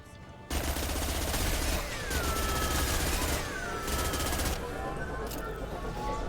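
Rapid automatic gunfire rattles in sustained bursts during a video game firefight aimed at injection tubes, loud and close, with brief pauses, shifting electronic tones and game sound effects layered over it.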